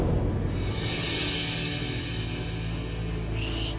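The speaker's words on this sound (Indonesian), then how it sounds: "itu suara motor" A motorcycle arrives at a house, its engine droning steadily with a low throbbing hum that holds for several seconds before a brighter whine cuts in near the end.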